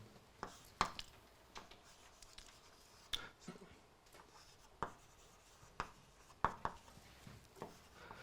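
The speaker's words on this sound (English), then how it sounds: "I'll just write it in words" Chalk or pen writing on a board during a mathematics lecture, quiet scratching strokes with sharp taps at irregular intervals, faint room tone around it and no talk.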